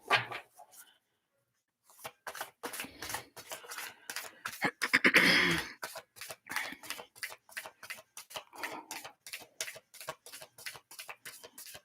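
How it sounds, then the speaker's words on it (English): A tarot deck is shuffled up close, its crisp card flicks and slaps coming in quick uneven bursts after a brief pause near the start, then running steadily with no talk over them. "One more shuffle."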